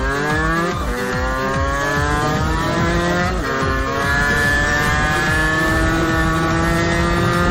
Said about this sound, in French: vous voyez, en combien de temps ça rétrograde.